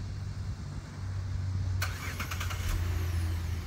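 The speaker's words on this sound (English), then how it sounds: "It's got remote start," A 2011 Buick Enclave CXL fires up by remote start, a quiet idle hum that jumps to a brief burst of cranking and settles into a low running drone.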